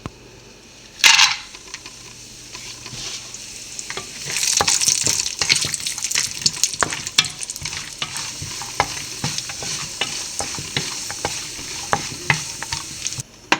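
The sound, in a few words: cashews frying in oil for egg biryani garnish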